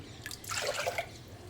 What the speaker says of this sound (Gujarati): 2-3 વાડકી દાળ બફાય એટલું પાણી ઉમેરી લઈશું.